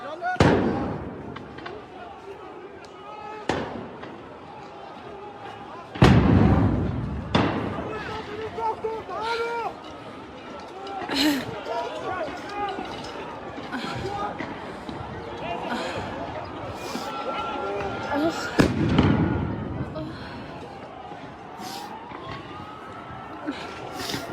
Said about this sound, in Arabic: قوات الاحتلال تطلق الغاز وقنابل الصوت بكثافة في المسجد الأقصى